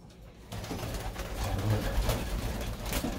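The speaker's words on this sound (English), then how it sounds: "What a pair of beautiful, beautiful birds." Pigeons in a loft with a newly installed aviary, their low soft cooing murmuring steadily and close by, with faint rustling and a brief quiet start before the sound swells.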